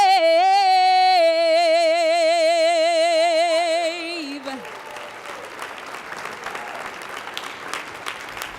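Audience applause at a Black History celebration in Tampa rises after a sung national anthem, with the held final notes fading into broad, steady clapping from a large crowd.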